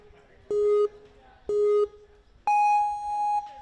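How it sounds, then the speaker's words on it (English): NinjaWorks obstacle-course timing system start sequence at a ninja competition qualifier: two short identical beeps a second apart, then a longer, higher final go tone, clear and loud. "On that final tone, that's your go signal."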